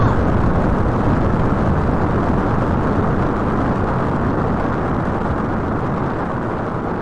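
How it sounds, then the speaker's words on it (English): Rocket blast-off at launch: a sustained, loud, broadband roar holding steady and near for the whole stretch, no voices over it. "Get ready to launch. 5, 4, 3, 2, 1. Blast off!"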